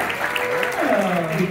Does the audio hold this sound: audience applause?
yes